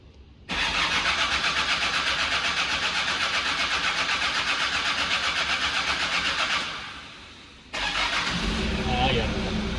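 Kia Sorento being cranked: a loud, steady rhythmic starter churning for several seconds, a brief drop-off, then the engine catching and settling into a running idle.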